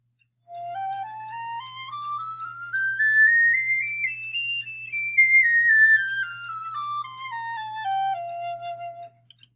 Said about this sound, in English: Here you have the piccolo, which is a smaller version of the flute.